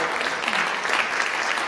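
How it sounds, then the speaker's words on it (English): A live audience applauds a discussion panel at the close of an evening event, a steady dense wash of clapping with no gaps, held at an even level throughout. "let's give our panel a nice round of applause"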